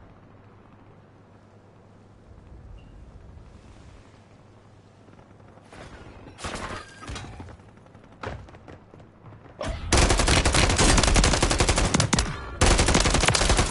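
Bursts of automatic gunfire from the video game Warzone start faint and grow into loud, continuous rattling volleys, and a player briefly speaks.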